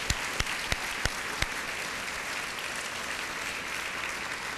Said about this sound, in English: So one more round of applause there.